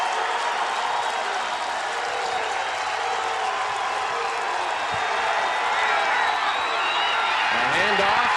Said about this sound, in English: the home crowd getting behind their Eagles